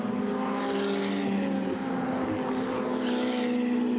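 Ferrari 488 GTE race car at speed during a Ferrari Challenge Europe Trofeo Pirelli race in Budapest, a steady, loud, buzzing engine note that holds throughout with slight pitch shifts.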